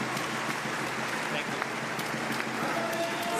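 Crowd cheering and applauding at a wheelchair badminton doubles group match at the Paris 2024 Paralympics, a steady broadband roar of distant spectators that holds without a break.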